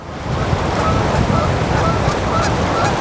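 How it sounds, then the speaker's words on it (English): Geese honk now and then over a steady wash of surf and wind on a coastal shore, fairly loud and close. "But Garrick, everybody loves the geese."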